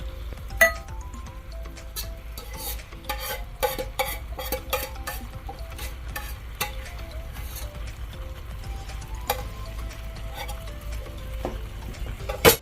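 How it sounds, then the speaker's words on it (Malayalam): Venison being stirred with masala in a pan, a spoon repeatedly clinking and scraping against the metal in irregular bursts over a low, steady sizzle, close and without speech. "എല്ലാം അങ്ങോട്ട് മിക്സ് ചെയ്ത് മസാല എല്ലാത്തിലും അങ്ങോട്ട് പിടിപ്പിക്കാം"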